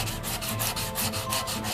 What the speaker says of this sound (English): Now it's time for hand sanding.